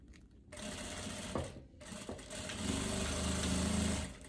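A sewing machine stitches a viscose romper with elastic shirring, running in a steady motor whir that starts after a brief pause, stops momentarily, then continues loud and close.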